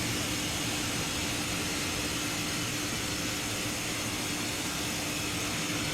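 Airbus A330 jet engines in Microsoft Flight Simulator 2024, heard as a dense, constant roar at cruise speed around 290 knots, a broad steady wash of noise with no breaks.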